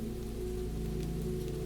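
Steady rain falls through misty woodland in a calm, continuous patter with a low, even background rumble and no voices.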